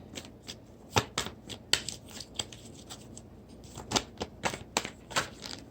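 Tarot cards shuffled close by, a quick run of crisp riffling flicks and snaps in irregular bursts, with no voices.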